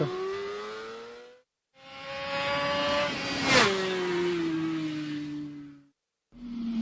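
Valentino Rossi's racing motorcycle powers out of a hairpin onto a fast section, its engine revving loud and rising in pitch through two long pulls, with a brief sharp burst near the middle and a silent gap before the engine returns.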